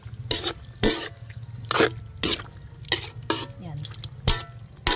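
Seasoned pork being stirred in a hot pan for pinakbet, with sharp scraping and clattering strokes of a utensil repeating every half second or so over a low steady sizzle.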